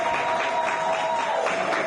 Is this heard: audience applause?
yes